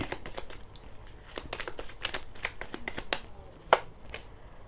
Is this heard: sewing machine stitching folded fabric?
no